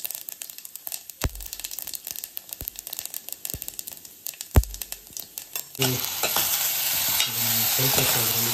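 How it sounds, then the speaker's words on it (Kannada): Tempering spices dropped into very hot oil for an onion-free Bombay saagu: sharp crackles and pops at first, then a sudden loud, continuous sizzle close by. "ಫುಲ್ ಕಾದ್ಬಿಡಿದೆ, ಬೇಗ ಹಾಕುವ ಒಗ್ಗರಣೆ"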